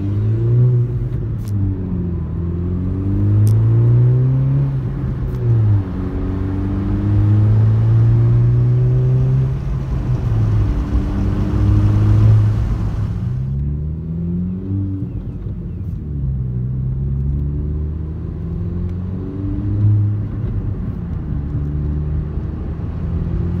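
A 10th-gen Honda Civic Si fitted with a PRL Cobra cold air intake pulls gently from first gear up a slight incline, the engine droning and rising through repeated revs with a loud, close rumble, then easing off toward the end.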